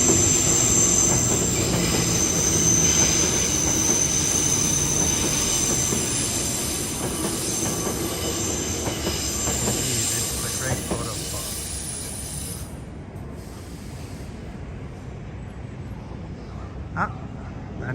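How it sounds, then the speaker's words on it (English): A Tokyo Marunouchi Line subway train arrives at a station, its steady rumbling roar joined by high squealing wheels that fade as the train slows, with faint voices under the noise. "Here's a little Marunouchi line"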